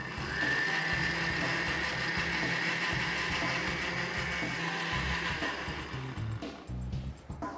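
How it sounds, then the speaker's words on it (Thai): A blender whirs through hot black sesame milk in a loud, steady roar with a high whine, running continuously before sputtering and stopping near the end. "ใส่ลงในเครื่องปั่นน้ำครับ แล้วเราก็ ปั่นครับผม"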